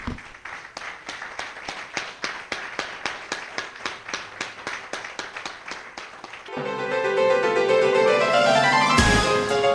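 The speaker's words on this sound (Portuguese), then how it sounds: "Vamos mais uma vez dar uma salva de palmas para o nosso Deus." A church congregation at a Pentecostal-style service claps in a steady, even rhythm of sharp beats, loud and close, then blends into a swelling burst of sustained music or cheering toward the end.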